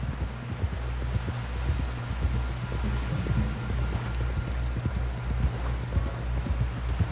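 Steady clip-clop of a galloping horse in Red Dead Redemption 2, hooves pounding in a fast, continuous rhythm over a constant low rumble of wind and movement.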